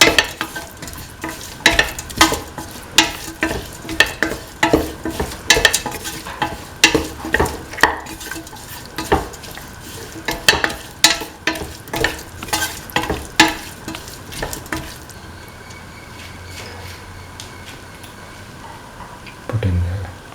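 Beef and green peas stir-fry in a pan, with rapid, repeated spatula scrapes and clacks over a constant sizzle; the stirring stops near the end, leaving a quieter frying hiss and one last knock.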